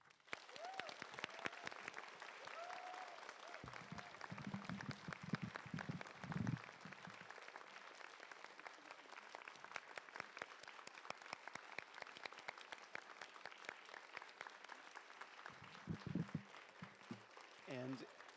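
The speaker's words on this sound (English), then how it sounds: "one final round of applause" Sustained applause from an audience at a Bay Area Secular Solstice gathering fills the room with dense, steady clapping. Brief bits of voice and sung tones rise over it at moments, and the clapping stays at a moderate level throughout.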